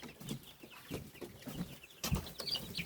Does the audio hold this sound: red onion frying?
no